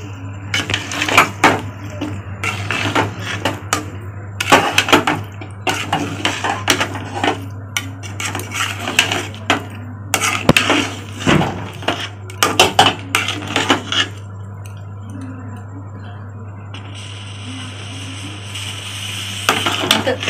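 A spoon stirs semolina pudding with milk in a pan, making busy metallic clinks and scrapes in an uneven rhythm over a steady low hum. The clatter thins out to quieter, sparser taps in the last few seconds.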